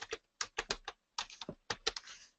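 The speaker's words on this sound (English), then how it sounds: "I can type in a booking number" Fingers tap out a booking number on a computer keyboard in a few quick bursts of close, crisp keystrokes, with short pauses between groups and no voices.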